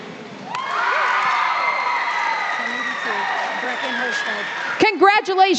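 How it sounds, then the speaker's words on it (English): Crowd at a 4-H livestock show at the Nebraska State Fair cheering and applauding for kids showing market hogs, a loud sustained roar with whoops and shouts, then a voice speaking over it near the end. "let's give these kids a big round of applause"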